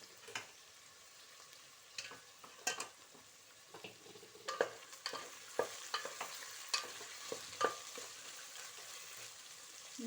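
Cut potato and vegetables frying in a pan, stirred with repeated scraping and soft clinks over a low continuous sizzle. Nearby and fairly quiet, with no talk.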